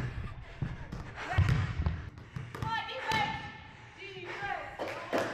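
A basketball bounces on a court after a rebound, giving several irregular thumps close by, mixed in with people talking and other movement noise.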